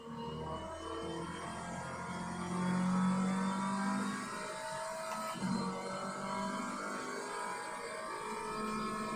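Formula car engine in a racing video game, a steady mid-pitched drone with a brief louder rise partway through, continuous and fairly close throughout.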